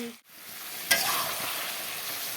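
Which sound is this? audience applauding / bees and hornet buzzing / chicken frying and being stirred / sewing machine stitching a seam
chicken frying and being stirred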